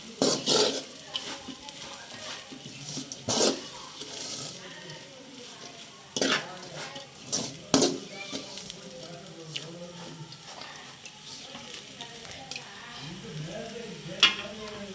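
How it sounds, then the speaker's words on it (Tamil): Sri Lankan-style kottu roti with parotta is stirred and mixed in a pan, giving irregular scraping and metallic clatter that peaks now and then, while a person talks throughout. "பரோட்டா போடுவோம் போட்டாச்சு கலந்து விடுவோம் நல்லாலாம் சேர்ற மாதிரி கலந்து விடுவோம்"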